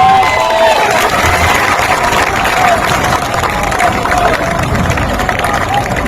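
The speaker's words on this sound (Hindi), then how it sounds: "जोरदार ताली बजाइए।" Loud applause and cheering from a large crowd at an outdoor political rally of the Jan Suraaj Party, a dense continuous wash of clapping with shouts mixed in over a steady hubbub.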